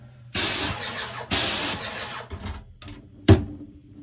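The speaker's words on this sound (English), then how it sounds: "It's got a very quiet little pump going on in there" Bursts from an Erbauer 600W paint sprayer's small pump, two broad hissing runs of about a second each, then a few shorter spurts and a sharp click, close up with no talk.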